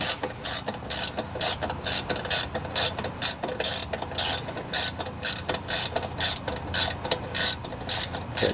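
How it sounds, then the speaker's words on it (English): Ratcheting wrench tightening bolts on a Tecumseh lawnmower engine during a seal and flywheel job, a steady run of rapid, close clicking strokes repeating in short bursts throughout, with no talk. "And while you're holding it down, you tighten up the bolts."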